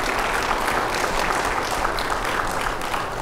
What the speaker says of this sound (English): And that applause, Roberta, is for you.